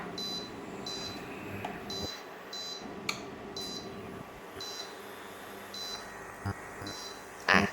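Hafele induction cooktop beeping as it is switched on and heat levels are selected, a series of short, high, evenly spaced electronic tones repeated several times over a faint room hum.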